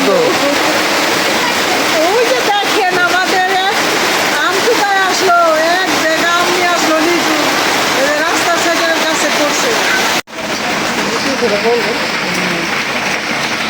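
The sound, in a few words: heavy rain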